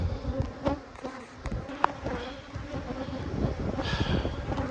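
Honey bees buzz around an opened hive box in a West Texas bee yard, a close, wavering drone with passing individual bees and light handling noise.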